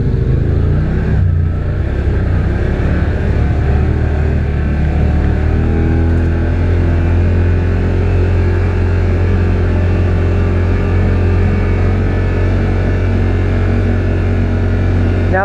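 A 2021 Yamaha Wolverine R MAX 1000 base model side-by-side crawls in four-wheel drive on stock GBC Dirt Commander tires, its engine a loud, steady close-up drone with rumble and wind noise throughout.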